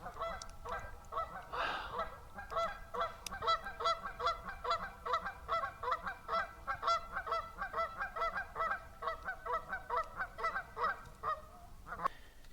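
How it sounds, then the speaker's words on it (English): A goose at a lake honks over and over in a steady, rhythmic series of nasal calls at moderate distance, continuing for several seconds against a quiet outdoor background. "I got the goose honking at me"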